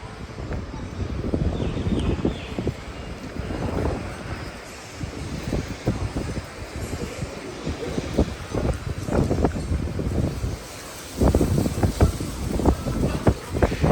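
Breezy, cold winter wind blows across an outdoor street-side construction area, gusting in uneven bursts of buffeting against the microphone, loud and close throughout with brief lulls.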